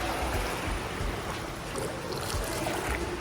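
Swimmer glides through pool water, producing a continuous close rush and swish of moving water that stays loud and fairly even throughout, with no voices.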